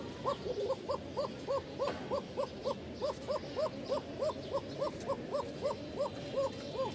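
A Giribaz pigeon at a Rajshahi pigeon sale gives a steady, rapid run of soft, hollow coos, evenly spaced and repeating many times over a low background hum.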